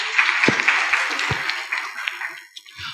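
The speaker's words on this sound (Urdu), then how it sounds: "بھی تالیاں بجاؤ بچی کے لیے" A few sharp claps from children, two stand out clearly, over a steady hiss of room noise in a classroom-style religious lecture after a girl gives a correct answer.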